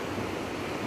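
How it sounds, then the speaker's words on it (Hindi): River water runs below a mountain road on the way to Kedarnath with a steady, broad rushing that stays constant and fairly loud throughout. "देखो नीचे अगर पानी की आवाज़ अगर आप सुन पा रहे हो तो"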